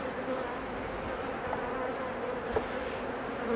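Honey bees buzz in a steady, dense drone around an open hive frame beside brood and queen cells, a continuous close swarm hum with a few sharper individual buzzes passing nearby.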